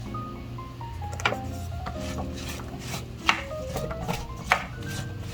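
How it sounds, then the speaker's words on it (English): A knife cuts Swiss chard on a board during home cooking: a few sharp, separate chops and some rubbing scrapes sound close by over steady background music. "I'm gonna saute that for about 5 minutes while I cut up the Swiss chard here."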